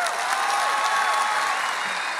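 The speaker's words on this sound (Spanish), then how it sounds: "fuerte el aplauso para ellos" Audience at a live comedy show applauding, a dense, steady wash of clapping from a large crowd throughout.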